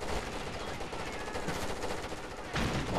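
Rapid automatic gunfire rattles throughout a firefight in the tactical shooter Rainbow Six Vegas 2, dense overlapping bursts with a heavier volley near the end.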